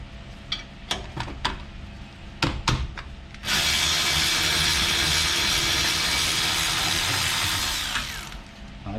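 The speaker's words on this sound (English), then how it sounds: "We're going to take off the caliper pins, which will be a T7 on this model." Brake caliper pins being removed on a 2011–2022 Jeep Grand Cherokee front brake: several sharp tool clicks and clanks, then a loud, steady power-tool whir lasting about five seconds before stopping.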